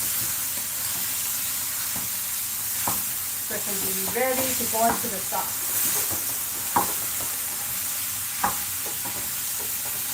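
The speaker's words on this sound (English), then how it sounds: "I'm going to break down this sausage." Sausage sizzles and hisses in a pan while a chopper tool breaks it apart, giving scattered scraping and clacking stirs over the steady frying. A person speaks briefly over the cooking.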